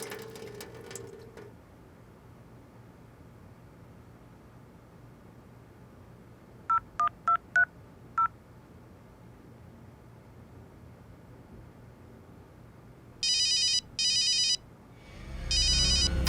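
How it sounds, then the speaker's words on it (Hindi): A phone dialed in a quiet room: a quick run of keypad tones, then two bursts of electronic ringing, ending in a swelling rumble, with no one speaking. "फोन की आवाज तो बाहर से आ रही"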